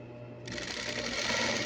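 A sewing machine starts up partway through and runs steadily, stitching elastic garter onto a pair of shorts with a fast even whirring close by.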